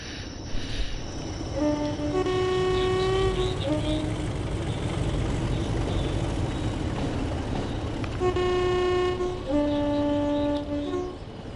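Two Class 33 diesel locomotives working double-headed in Train Sim World 5, a continuous engine rumble with long sustained tonal horn or engine notes rising and holding twice, loud and close throughout.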